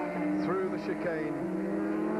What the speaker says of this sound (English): Nation leaving the rest of the field in his exhaust fumes from that flying Norton